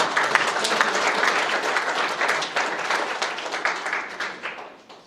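Audience applause at a superintendent's Outstanding Student of the Month award presentation: dense, steady clapping from a roomful of people that holds for several seconds, then thins and fades toward the end.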